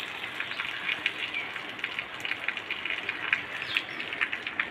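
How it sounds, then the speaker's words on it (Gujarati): Steady patter of light, gentle village rain, a dense hiss with scattered drop ticks, with faint bird calls in the background. "વરસાદ સારો પડી રહ્યો છે."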